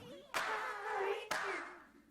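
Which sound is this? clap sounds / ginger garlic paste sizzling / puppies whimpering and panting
clap sounds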